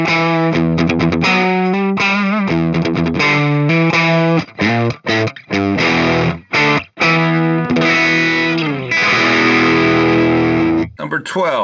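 Electric guitar played through the Flatsons KE1 amp's Mace MK Channel 2 preset, heavily distorted, with sustained chords and choppy, rhythmic palm-muted stabs ringing loud and close, no talking.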